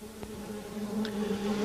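Stingless urussu bees buzzing in a colony, a steady low drone at moderate volume with no voices.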